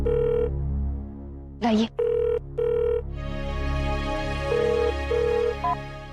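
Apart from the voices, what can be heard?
telephone ringing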